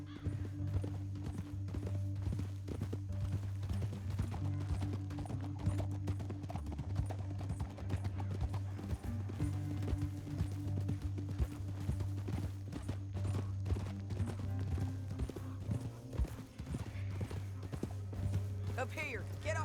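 Rhythmic galloping hoofbeats in Red Dead Redemption 2 clatter steadily throughout, with a low droning music bed and occasional voices over it.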